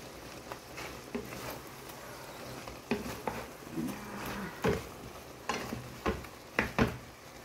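Butter chili garlic shrimp cooking in a covered pan gives a steady low sizzle and hiss, broken by a handful of sharp clinks and taps of utensils and pan, with no voices.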